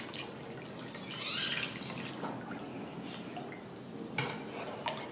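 500 ml of water poured onto sugar in a pan and stirred for homemade syrup, faint dripping and light liquid splashes with soft clinks of utensil against cookware, fairly quiet and uneven.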